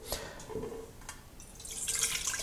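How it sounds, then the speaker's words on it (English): Water trickles and drips into a water bath set up for making lemon-infused oil, a faint, close splashing that grows steadier toward the end. "And just add a water to build up the water bath."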